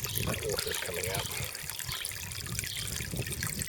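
Hot water pouring from the outlet of a wood-burning pool heater, a steady loud splashing gush, with a voice briefly audible over the flow.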